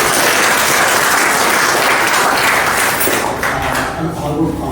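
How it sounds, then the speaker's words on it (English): Audience round of applause at a book launch: loud, dense, close clapping filling the room, tapering slightly toward the end as talk emerges. "I think we should just kind of have a quick round of applause for me."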